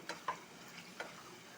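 Spoon stirring phool makhani curry in a pan, faint soft scrapes and a few light clicks over a quiet background hiss.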